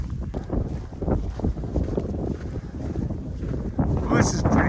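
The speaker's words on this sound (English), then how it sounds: "The wind's blowing, but it's not that bad." Wind gusting on a snowy stretch of the Appalachian Trail in Tennessee, a steady rushing buffet against the microphone that swells louder toward the end, with no voices.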